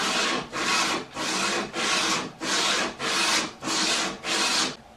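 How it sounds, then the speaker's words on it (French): Wooden parts for a woven cutting board being hand-sanded with a sanding block: eight steady, even back-and-forth strokes with brief pauses between them, close and loud, with no voices. "avec un bloc de ponçage, plus facile de rester droit et de sabler vraiment perpendiculaire"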